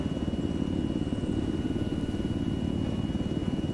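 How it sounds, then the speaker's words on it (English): A steady engine drone runs in a flight simulator game, a continuous low rumble with a fast regular pulsing, fairly loud and unchanging, with no talking over it. "Let me turn the engine off."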